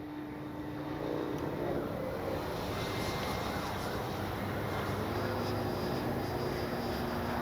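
A Hangar 9 J-3 Cub RC model plane with a 10cc engine flies high overhead on its maiden flight, a distant, steady engine drone under outdoor wind noise.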